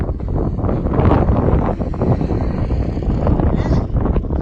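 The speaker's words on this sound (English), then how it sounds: "it's windy and I can't really hear very well" Strong wind on the Continental Divide Trail's Leeds Creek Alternate buffets the microphone in a constant, loud low roar with gusty surges throughout.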